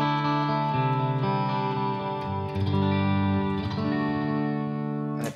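Electric guitar played through a Line 6 Helix into a PowerCab Plus speaker, a sustained, effects-laden chord sound with chorus and reverb, loud and close with no talk.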